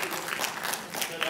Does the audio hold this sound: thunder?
no